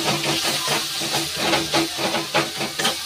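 Turmeric, cumin, coriander and red chili powder sizzle and hiss in a pan while being stirred, a dense continuous frying sizzle with scraping strokes of the spoon, loud and close with no talking.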